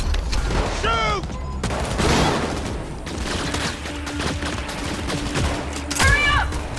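Rapid gunfire crackles through a Cyberpunk 2077 firefight, volleys of shots layered with distant booms, while a voice shouts over the battle.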